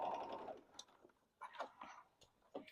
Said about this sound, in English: I'm going to back stitch just a little bit of extra reinforcement, a little bit of a back stitch there